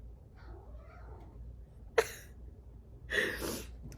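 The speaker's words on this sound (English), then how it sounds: "He's meowing at squirrels and stuff." A cat gives a couple of short, faint meows at indoor distance, separated by quiet pauses, with one sharp brief burst between them.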